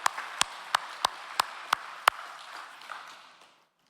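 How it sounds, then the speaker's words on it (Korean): Scattered applause from a small seminar audience thanking a speaker, with several sharp individual claps standing out over a softer crowd clapping that thins and fades to silence. "우리 송 회장님께 우리 감사의 박수 드리겠습니다"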